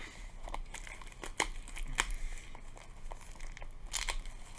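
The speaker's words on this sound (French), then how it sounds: "le plastique se détend, mais j'arrive pas à l'ouvrir" Plastic shrink wrap on a Pokemon 151 card box crinkling and crackling as fingers work at it, a close, quiet series of sharp irregular crackles and rustles with no talking.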